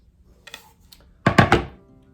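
Kale being chopped with a knife on a cutting board for a polenta and parmesan soup: a few light taps, then three heavy, close thunks in quick succession, with no voices.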